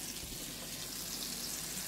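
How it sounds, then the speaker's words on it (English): Country fried steak frying in a pan, a faint, steady hiss of sizzling oil with fine crackling texture, continuous and uninterrupted. "Can you hear that sizzle?"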